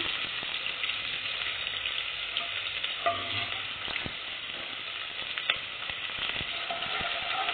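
Cinnamon, cloves, star anise and onion frying in hot oil for tomato rice give a steady, close sizzle with scattered stirring clicks, and nobody speaks.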